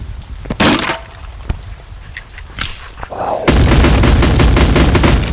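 Gunfire in the VR game Animal Company: a few sharp cracks at first, then a loud, dense burst of rapid shots that keeps going to the end, with no speech.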